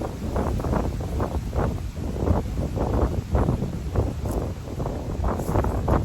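Gusty wind buffets a microphone outdoors in a garden, rushing in uneven loud bursts with a rustling, blustery texture and no speech.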